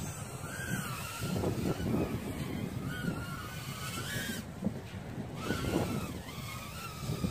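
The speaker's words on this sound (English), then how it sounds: "my SPC Maker 90GN actually flies after soft mounting the motors" An SPC Maker 90GN FPV quadcopter drone with soft-mounted motors flies nearby, its steady high-pitched propeller whine rising and falling in pitch as the throttle shifts over a continuous broadband rush.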